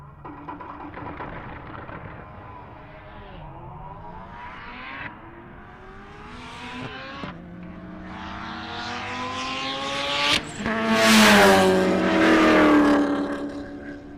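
Race cars at a motorsports park accelerate and pass one after another, among them a Corvette C6 Z06 and a rotary-engined Mazda RX-7, rising engine whines climbing through gears and ending in a loud close roar.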